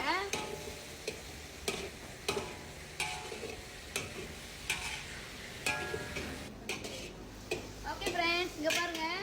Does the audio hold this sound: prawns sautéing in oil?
yes